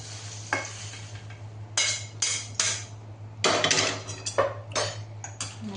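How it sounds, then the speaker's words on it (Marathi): Whole spices are dry-roasted in a pan on a gas flame for Maharashtrian black masala, with a spoon scraping and clinking against the metal in short, irregular bursts over a low background hum. "छान आता हे सगळं भाजून घेऊयात"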